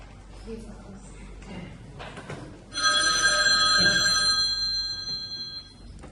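A telephone bell rings in a stretch of steady trills, loud and close, following quieter indoor movement and background noise in a school drama scene.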